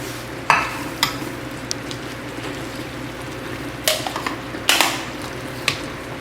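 Chopped cilantro and green onion tops sizzle in a clay pot alongside roast pork, a low steady frying hiss broken by a few sharp clinks and scrapes of stirring.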